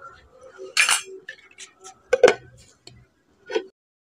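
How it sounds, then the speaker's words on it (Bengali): A lid clinks onto a container during bread making, with a few sharp, close clicks and light knocks separated by short pauses. "এবার ঢাকাটা দিয়ে দিচ্ছি।"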